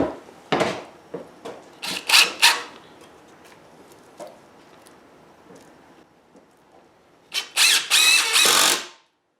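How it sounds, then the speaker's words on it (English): Screws are driven into the wooden boards of a raised garden bed, with short bursts of a power driver whirring near the start and a longer loud run near the end, separated by quieter scraping and handling. "I'll get a couple of screws in to hold this in place."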